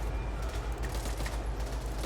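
Rapid M16 rifle fire in the zombie shooter Back 4 Blood, a dense continuous stream of game gunshots mixed with in-game effects, loud and unbroken with no voices.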